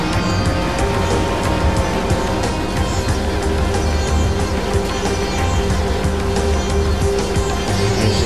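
A jet ski in Far Cry 4 runs with a continuous buzzing engine drone and splashing water, steady and fairly loud throughout, with no talking.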